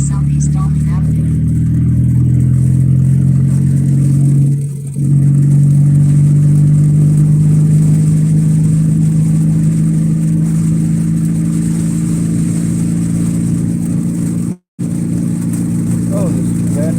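Car engine hums steadily while cruising on a highway, a loud low drone under cabin noise with a brief dip partway through, while a person talks over it.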